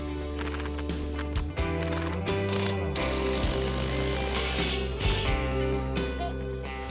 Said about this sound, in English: We're using the concrete anchors and a hammer drill to pre-drill the holes